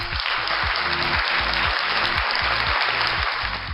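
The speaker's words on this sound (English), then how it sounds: "I'll just give an applause here." Applause plays as a dense, steady burst of clapping lasting a few seconds over a looping backing beat.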